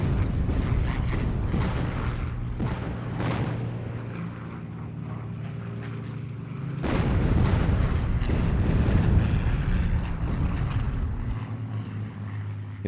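A World War II artillery barrage fills the air with a dense, continuous rumble of booming gunfire, with heavier bursts and sharp reports building in the middle, alongside a low droning like aircraft engines overhead.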